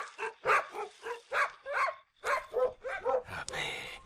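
A dog barks repeatedly at night in quick, rhythmic bursts, loud and close, with a few higher yips near the end.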